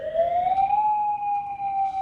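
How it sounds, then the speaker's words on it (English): A Hawaii nuclear attack warning siren sounds during a test, a loud steady wail that slowly rises in pitch and then holds, with no voices present. "Hawaii is resuming the testing of its nuclear attack warning sirens."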